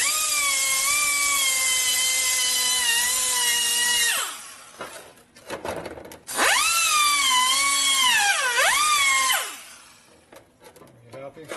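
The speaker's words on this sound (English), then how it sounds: "Put a nice chamfer there, it might assemble easier." A lathe or power tool chamfering an NOS part for a 1942 Harley WLA/WLC 45ci four-speed transmission, a loud steady tonal whine that sags and rises under load, stopping briefly between two passes amid workshop clatter.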